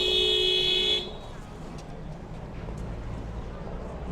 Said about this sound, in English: Oh, that guy's beeping like crazy.